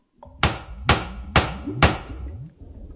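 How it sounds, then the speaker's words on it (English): A hammer strikes four times in a steady, evenly spaced rhythm, each blow a sharp, close, fairly loud thwack on a hard surface with a short ring-off. "This hammer is exactly what I'm looking for."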